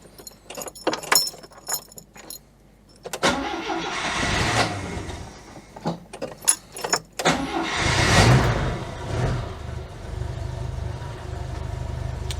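Keys jangle, then a car engine cranks, catches and roars up before settling into a rough, uneven idle, seemingly needing choke.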